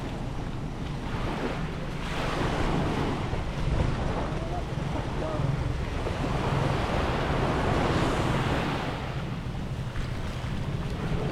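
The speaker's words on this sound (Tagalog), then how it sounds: "Yan ang alon." A continuous, loud roar of ocean waves mixed with gusting wind buffeting the microphone, steady throughout with no pauses, at Divinubo Island, Eastern Samar.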